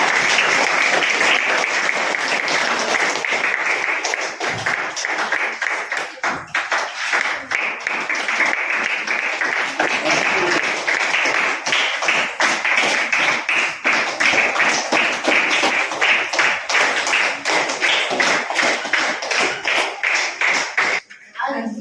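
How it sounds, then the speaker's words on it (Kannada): An audience at a Bharatanatyam dance performance applauds, a long, dense, steady burst of many hands clapping that holds for about twenty seconds before breaking off abruptly at the end. "ಚಪ್ಪಾಳೆ ಬಿಡಬೇಕಲ್ಲ."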